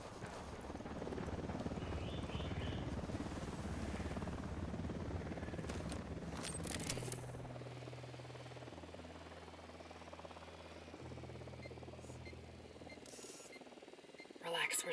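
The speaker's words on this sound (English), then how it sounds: "Unidad chopper, stay low." Helicopter in the tactical shooter Ghost Recon Wildlands, a steady low rotor drone with blade chop that holds for the whole stretch, moderately loud under game ambience and radio-style team chatter.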